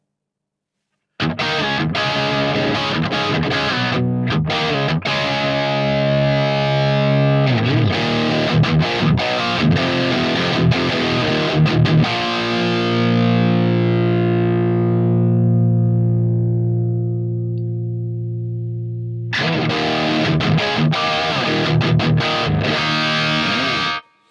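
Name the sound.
distorted electric guitar through amp model preset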